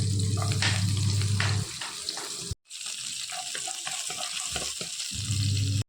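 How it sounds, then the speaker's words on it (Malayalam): Small onions fry in hot coconut oil in a kadai for kappa biryani, a bright continuous sizzle and crackle over a low hum, broken by a brief silent gap. No one speaks. "വെളിച്ചെണ്ണ ചൂടായി വരുന്ന സമയം നമ്മൾ ചെറിയ ഉള്ളി ഇട്ടിട്ട് നന്നായിട്ട് മൂപ്പിച്ചെടുക്കാം."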